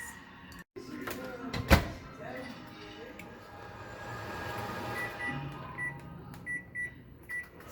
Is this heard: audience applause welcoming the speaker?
no